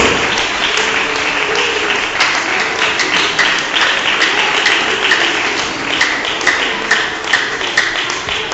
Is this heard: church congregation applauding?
yes